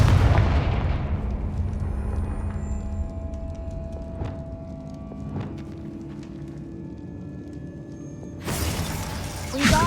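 Bombarda and Confringo spell blasts in Hogwarts Legacy burst loudly with crashing debris, then decay into a long rumbling tail with clattering bits. A second loud blast erupts near the end.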